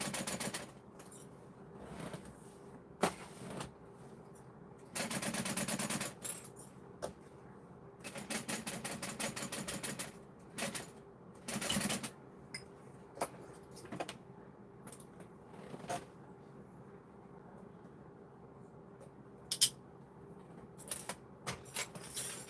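A sewing machine stitches a tote bag in stop-start bursts, short rapid mechanical runs of a second or two separated by quiet pauses, with scattered clicks and handling noise; close and moderately quiet, with no talk.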